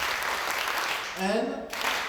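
Audience applause at a women's slam poetry competition at Centre Nelson Mandela, a steady wash of clapping throughout, with a voice briefly rising above it near the end.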